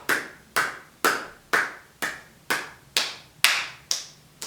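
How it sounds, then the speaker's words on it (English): A series of eight crisp hand claps in a steady, even rhythm, struck about every half second as part of a gentle yoga wake-up exercise, close and clear with no voices over them. "and then clap"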